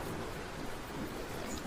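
Steady heavy rain pours without a break as a drama sound effect of a flood, a dense even hiss filling the short stretch with no voices.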